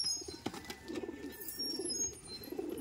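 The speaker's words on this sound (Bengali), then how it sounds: "এটা মাদি পায়রা," Pigeons kept by a hobbyist coo softly in repeated low rounded phrases close by, over faint background chirps and rustling, with no talking.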